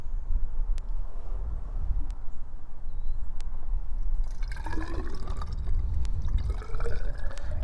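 Rainwater pours and splashes into a container, the trickle growing louder with a gurgling fill tone in the second half, close by.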